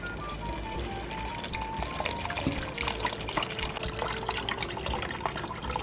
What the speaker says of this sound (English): Next, add 4 cups of chicken broth.